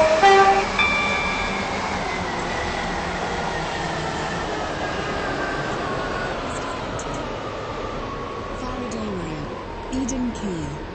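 A four-coach passenger train running near Cambridge, a steady rumbling ride noise with rising and falling tonal whine from the motors, fairly even throughout with a slight bump near the end.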